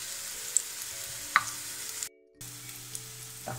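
Cabbage-stuffed zrazy frying in a pan, a soft steady sizzle with a few small pops and crackles and a brief quiet gap in the middle.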